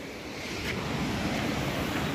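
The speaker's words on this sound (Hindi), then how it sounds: "ये नदी की आवाज़" River in the mountains near Ukhimath and Ransi village, a steady broad rush of flowing water that swells slightly and runs on continuously, with wind across the microphone and no voices.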